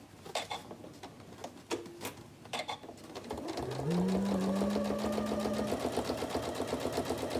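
A sewing machine stitches around a tote bag, starting with a few sparse clicks and taps, then settling into a fast, continuous rhythmic whir that carries to the end.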